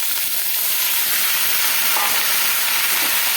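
Vegetables hit hot oil with black cumin seed in a wok and sizzle loudly, a dense continuous hiss close up, with no talking.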